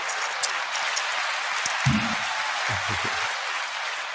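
Applause for a panelist on a culture talk show, a steady, moderately loud wash of clapping through the whole stretch with a couple of low thumps partway through.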